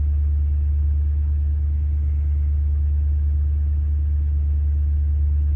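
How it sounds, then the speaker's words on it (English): A car engine idles steadily after a cold start, settling toward roughly 650 to 700 RPM, a constant low rumble with no voices over it. "I'll let it come down and stabilize at its regular idle speed, which is about 650 RPM"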